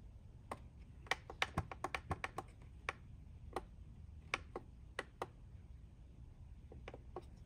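Keys clatter in uneven bursts of typing, close and fairly quiet, with short pauses between clusters of taps.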